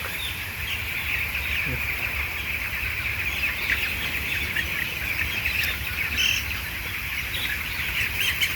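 A dense chorus of 16-day-old broiler chickens cheeps steadily in an enclosed farm house in Taiwan, a constant high chirping wash over a low hum of fans.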